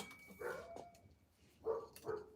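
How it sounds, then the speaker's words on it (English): Dogs bark a few times in the distance, in two short clusters separated by a pause, faint and without talk over them. "I guess the dogs are barking."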